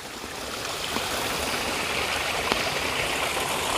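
A small stream of water flowing under a road on the Appalachian Trail, a steady, close rushing gurgle that fills the whole stretch with no voices.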